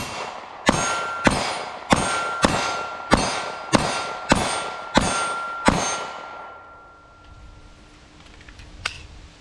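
A Taurus GX4 pistol fires CCI Blazer ammunition at a shooting range: eight sharp, loud shots in a fast, even rhythm, each ringing briefly, followed by a few seconds of quieter ambience.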